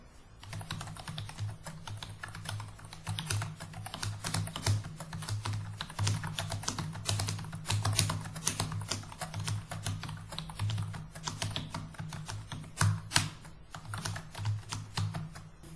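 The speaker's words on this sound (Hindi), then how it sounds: "जो मैं वर्ड टाइप कर रहा हूं।" Steady, rapid typing on a computer keyboard during a touch-typing practice of four-letter English words, with dense key clicks running continuously at close range and no talk.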